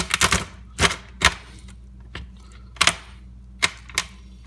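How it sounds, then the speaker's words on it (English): Heavy knife chopping through lobsters to split them down the middle: sharp, loud thuds and cracks in irregular bursts, several strikes spaced apart with quiet gaps, up close on a cutting surface. "You need a heavy knife to do this with. You want to split them right up the middle."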